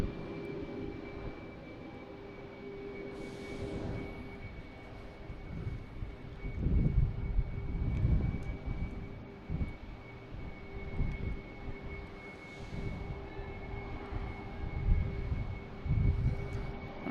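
Steady roar of a JetBlue passenger airliner at Boston Logan Airport, heard from a distance with wind buffeting the microphone and rumbling swells in the low end.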